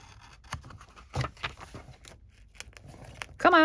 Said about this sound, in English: I'm just taking out my knife and I'm just gonna cut it like so